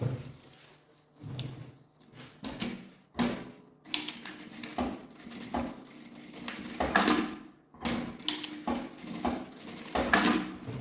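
A sewing machine stitches a sling bag strap in short, irregular bursts of mechanical clatter with brief pauses between runs, close and fairly loud, with no talking.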